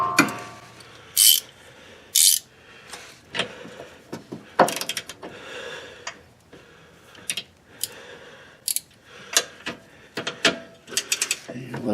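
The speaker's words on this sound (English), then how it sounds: "I'm going to go get a ratchet that I can fit in there and ratchet this." Ratchet clicking in short bursts while loosening toe link bolts on a 2011 Ford Edge, sharp metallic pawl ticks close by, with pauses and clanks between strokes.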